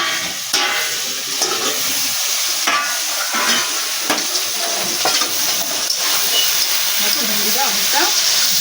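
Steady frying sizzle of ghugni in a pan with scraping stirring strokes, close and fairly loud, with faint voices in the background.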